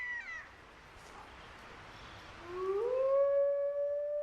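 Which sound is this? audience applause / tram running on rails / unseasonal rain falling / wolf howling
wolf howling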